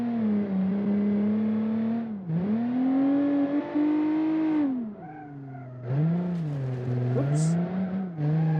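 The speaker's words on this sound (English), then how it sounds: "Ooh, love the V6 engine." A rear-wheel-drive V6 car in a racing video game revs hard in long sustained pulls, the engine note rising and dipping through gear changes, with brief pauses between bursts.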